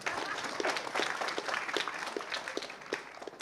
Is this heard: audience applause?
yes